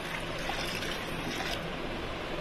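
Water being poured into soaked chana dal during cooking, a soft, continuous trickling and splashing heard close by and fairly faint for the whole stretch.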